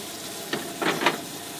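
Fish frying in a pan at a camp gives a steady close sizzle, with a few louder bursts of crackling as it cooks.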